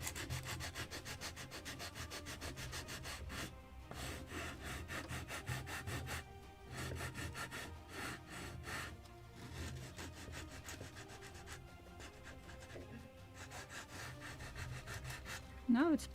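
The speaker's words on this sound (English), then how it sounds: "this is basswood. It's very soft, and this is sandpaper 100, I believe," Soft basswood is being sanded by hand with 100-grit sandpaper, a steady scratchy rubbing that keeps going in repeated strokes, close up and fairly quiet.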